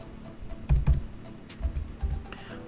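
Computer keyboard keystrokes entering a spreadsheet formula: a few separate bursts of close, clicky taps with brief pauses between them, fairly quiet and with no talk over them.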